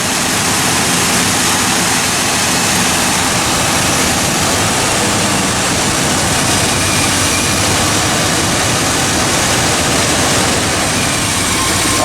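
A 1984 K20 truck engine idles steadily with its cooling fan spinning, a loud continuous broadband roar and rumble held close for the whole stretch without pauses.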